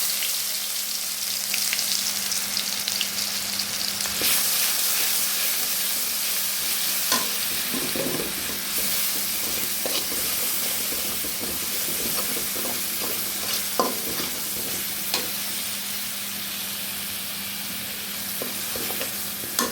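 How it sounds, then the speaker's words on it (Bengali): Ground spice paste sizzles in hot oil in a pan, a constant crackling fry with occasional stirring scrapes and clicks, close and without any talk. "হয়ে গেছে মশলা বাটা, একটু তেলে দিয়ে দিই"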